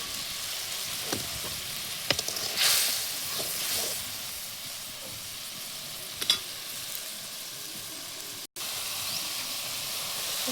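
A pot of salted water coming to the boil for a fish curry, a continuous bubbling hiss with a few brief clinks and knocks, close and steady.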